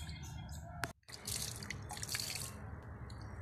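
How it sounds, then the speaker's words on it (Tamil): Sukku asthiram, an organic ginger-based fungicide solution, being sprayed onto garden plants, with a steady hissing wash of spray running through the clip, briefly cut off once near the start, and no talking. "இப்போ நம்ம இதை செடிகளுக்கு தெளிக்க ஆரம்பிக்கலாம்"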